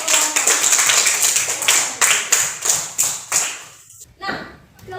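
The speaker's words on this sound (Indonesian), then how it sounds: "Kasih tepuk tangan sekali lagi untuk kelompok" A classroom of students clapping for a student group, a loud spell of fast, uneven claps that thins into a few distinct, spaced hand-claps before stopping, with a voice briefly heard.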